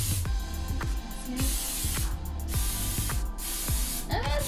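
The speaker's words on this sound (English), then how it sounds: "we're going to go ahead and spray it with our Pam" Pam cooking spray hissing onto a Teflon Wilton donut pan in a home kitchen, a series of short close bursts repeated in a quick rhythm, each with a sharp start and brief tail.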